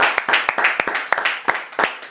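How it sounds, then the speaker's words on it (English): At a charity fundraiser livestream after an auction, a small audience applauds with distinct, separated claps, close and sharp, keeping a fairly quick, irregular rhythm. "Please, once again, give yourself a huge round of applause."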